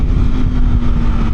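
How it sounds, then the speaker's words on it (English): A 2026 Aprilia Tuono V4 Factory's V4 engine roars loud and close on the road, a steady, thick, throbbing drone held at constant pitch without a break. "It's that V4 talking."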